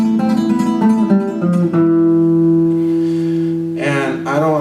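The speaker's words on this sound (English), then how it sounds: "he's playing the Malagueña tune, but he's using picado, and it sounds like this." Malagueña melody played on guitar with rapid alternating picado fingering, bright plucked notes ringing over a sustained bass, close and clear, a quick flurry of notes near the end.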